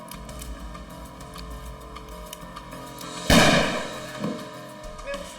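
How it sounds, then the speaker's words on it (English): A single handgun shot fired accidentally during a home robbery, a sharp loud crack that rings out once against a low, steady background hum, followed by a fainter thump. "The handgun had gone off accidentally."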